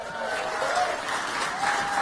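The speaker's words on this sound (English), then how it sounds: "And they all clap." An audience applauds steadily for two seconds, a dense wash of clapping heard as part of a played recording, with faint crowd noise beneath.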